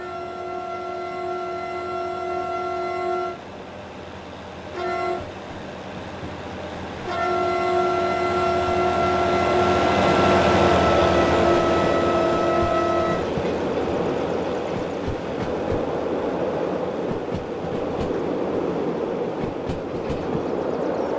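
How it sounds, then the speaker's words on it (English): A train in the Derail Valley simulator game sounds its horn in several long blasts, broken by short gaps, then rumbles past loudly with clattering wheels that fade into steady rolling noise. "watch the train go whizzing by. And I can hit the plus key for my on the numpad for the horn."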